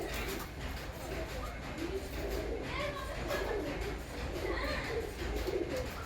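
Soft, low cooing of female pigeons in a loft repeats under a steady background hum, fairly close and continuous.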